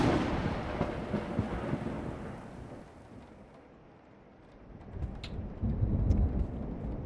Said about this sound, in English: That's some hard rain.